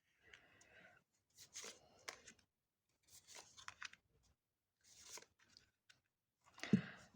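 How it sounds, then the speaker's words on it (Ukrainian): Tarot cards shuffle and slide with brisk papery flicks in several short bursts separated by silence, close and fairly quiet, ending with a soft tap. "О, прям карти випадають."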